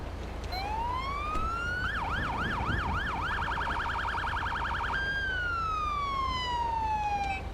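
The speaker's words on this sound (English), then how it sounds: "siren check" A loud police siren in a snowy Ohio State Highway Patrol game scene rises, switches to a rapid warbling yelp for a few seconds, then holds a steady wail before gliding slowly down, with a low engine rumble underneath.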